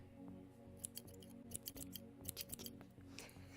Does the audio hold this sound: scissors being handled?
yes